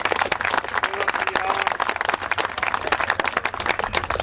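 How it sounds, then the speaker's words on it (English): A crowd applauds at a Big Block Ford car event, dense rapid clapping that stays loud and steady throughout, with a little talk mixed in. "Big round of applause for all you guys."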